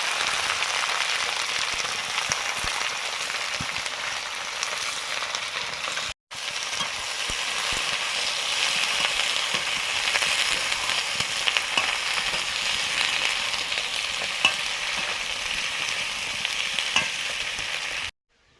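Eggplant added to new potatoes frying in oil left from frying prawns, a steady bright sizzle with scattered pops and stirring clicks, one brief dropout midway and a cut at the end.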